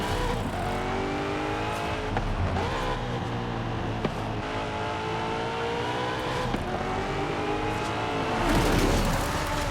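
A Volkswagen Beetle (Vocho) driven in the video game Forza Horizon 5. The engine drones steadily and loudly throughout, with shifting revs and a brief swell near the end.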